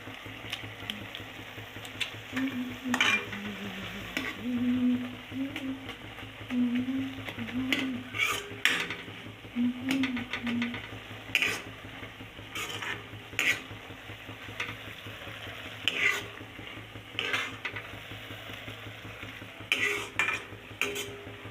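Maggi noodles with masala stirred in a pan, a utensil scraping and clinking against metal over a steady low sizzle, repeated stirring strokes up close.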